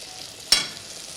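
A brief hiss of mantı dumplings frying in a pan, a single sharp sizzle burst over a steady low frying noise.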